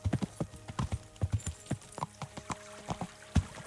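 Horse hooves clip-clop in a steady walking rhythm in the medieval game Kingdom Come: Deliverance, close and clear, with a faint steady hum in the background.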